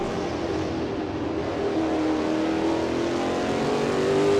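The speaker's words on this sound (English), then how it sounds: "Up through the gears once again, down the back straight." A race car in the Assetto Corsa sim racing game, driven on the Cummins Plains circuit, accelerates down the back straight, its engine note climbing steadily through the gears as a loud, continuous drone with no voices.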